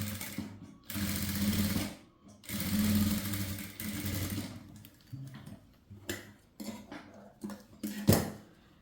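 Up close, a sewing machine runs a blouse shoulder seam in two loud, sustained bursts separated by a short pause, followed by scattered clicks and handling knocks as the fabric is adjusted.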